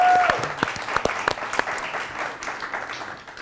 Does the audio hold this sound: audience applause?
yes